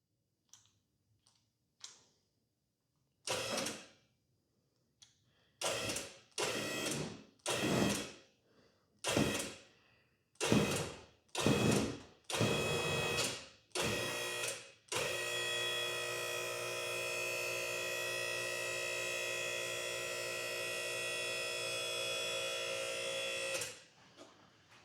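A QuickJack 7000TLX portable lift raises a Shelby GT350R off the ground in a garage. A run of short clunks and motor bursts comes first, then a steady electric pump whine holds for about nine seconds before stopping. It sits fairly quiet in the room, with no talk.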